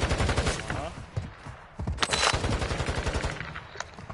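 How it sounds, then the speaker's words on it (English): Rapid bursts of gunfire with many shots in quick succession, loud and close, cutting through a busy mix with voices and other noise underneath. "why is he taking so many shots on the ground"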